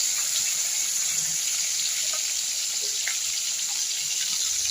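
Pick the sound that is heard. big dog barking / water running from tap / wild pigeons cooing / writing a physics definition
water running from tap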